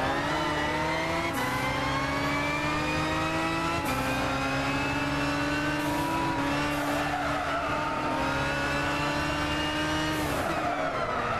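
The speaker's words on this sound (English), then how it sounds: "I'm just admiring the sound of this car," High-performance race car engine from the video game Gran Turismo 6, loud and sustained with steady revving, pitch climbing and dropping through gear shifts, alongside bursts of tire squeal.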